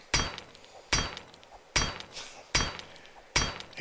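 In the 7 Days to Die video game, a rock tied to a stick hammers on a metal gun safe, giving five evenly spaced, loud, clanking impacts, each with a short ringing decay.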